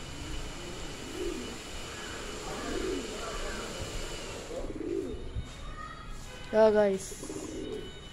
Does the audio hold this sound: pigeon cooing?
yes